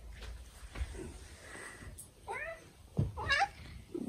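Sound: cat meowing

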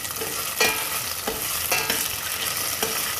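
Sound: stirring popcorn kernels with salt in a pan

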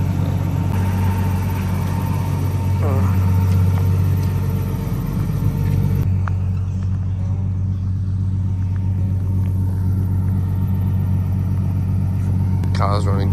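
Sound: Nissan Patrol TB48 turbo engine running while driving

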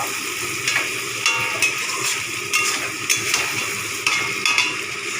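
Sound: tomatoes frying in a pan for chicken curry

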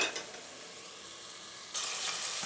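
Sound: diced meat sautéing in a pan

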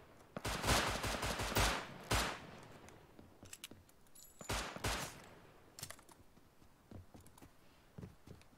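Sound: gunfire in a video game

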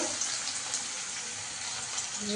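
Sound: potatoes added to hot oil in a kadai, frying

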